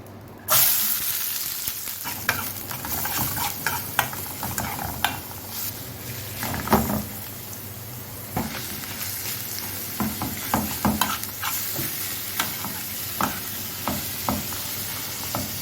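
Black pepper, cumin and other spices fry in hot oil in a pan with a loud, steady sizzle close by, broken by frequent clicks and scrapes of stirring throughout.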